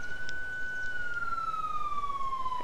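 A police siren wails in the Emergency 4 video game with the Montana mod, one long tone sliding slowly downward, steady and moderately loud over a faint background hum.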